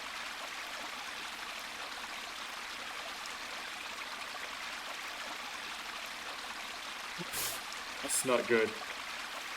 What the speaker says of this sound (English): Sound of running water is heard from somewhere.